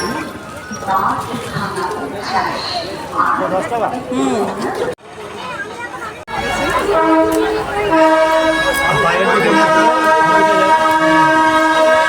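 A train on the Kalyani–Naihati line rumbles past and then sounds a long, loud, sustained horn, heard close amid crowd and chatter, with a brief quiet gap before the horn begins.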